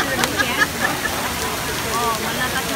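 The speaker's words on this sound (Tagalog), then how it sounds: "Talagang malakas na yung ulan." Heavy rain pours steadily at Esplanade near the Singapore Flyer, a broad continuous hiss with scattered splashes and faint crowd murmur in the background.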